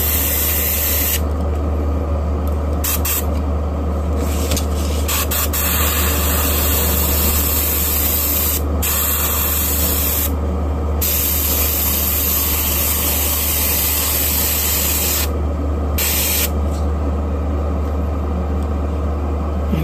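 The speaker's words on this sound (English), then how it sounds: "the Iwata Eclipse HVCS, a very capable airbrush" An Iwata Eclipse HP CS airbrush sprays paint in a steady, loud, continuous hiss that holds for the whole stretch without breaks, close up and with no voices.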